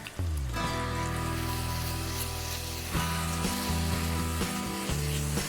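Ginger garlic paste sizzles loudly as it hits fried onions in a pan, a dense steady crackle with a few brief shifts and scrapes, and no talking.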